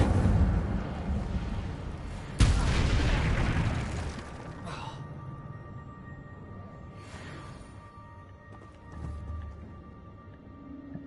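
An Incendio spell blast explodes in Hogwarts Legacy: one sharp, loud burst followed by a rushing roar that fades into quieter ambience with a few faint later thumps.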